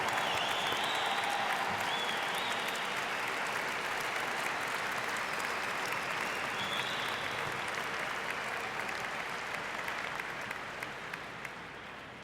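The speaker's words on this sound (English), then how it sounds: "Audience, please join me in a round of applause to recognize the accomplishments of the class of" Audience at a 2014 Wayzata High School graduation ceremony applauding, a dense, steady wash of clapping that fills the hall for about twelve seconds and tapers slightly at the end.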